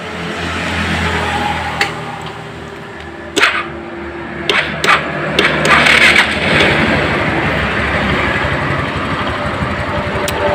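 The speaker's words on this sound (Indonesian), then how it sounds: "Ini coba kita tes ya, hidupkan sepeda motornya." A scooter-type automatic motorcycle engine starts and runs steadily after its carburetor was serviced for an irregular idle, a loud continuous drone with a few sharp clicks early on and no talk.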